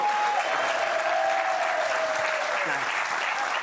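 A studio audience claps continuously throughout at even strength, with a faint sustained tone drifting underneath.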